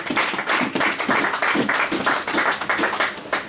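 A church congregation claps for the Lord, quick rhythmic handclaps from many people, steady and fairly loud throughout a short stretch with no talk over it.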